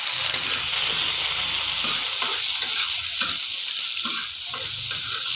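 Cabbage and shrimp fry in a hot pan with a steady, close hiss and sizzle that runs throughout, broken by faint stirring scrapes.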